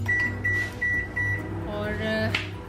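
A microwave oven heating covered khoya hums steadily with a low drone, a faint talking voice partly over it and a short beep near the end.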